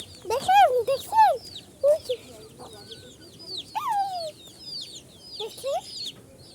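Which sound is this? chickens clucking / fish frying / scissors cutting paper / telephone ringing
chickens clucking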